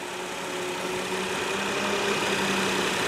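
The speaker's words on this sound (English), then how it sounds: "Great engine." Steady idle of a 2013 Nissan 370Z's 332-horsepower direct-injection engine, a constant low hum with faint tonal harmonics, close and even throughout with no talking.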